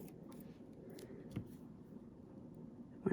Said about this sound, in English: I'm just going to cut that in half